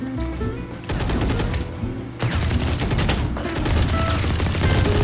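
Rapid automatic gunfire from Call of Duty gameplay, dense sustained bursts of shots with brief breaks, loud and continuous throughout.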